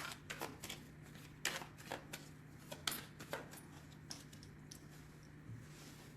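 A deck of tarot cards is cut and shuffled close up, giving a run of crisp riffling and slapping flicks that come in quick bursts and then trail off into quieter handling, with no talk.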